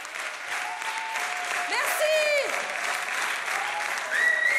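Warm applause from a theatre audience at an evening performance, dense continuous clapping throughout with brief voices and tonal sounds over it.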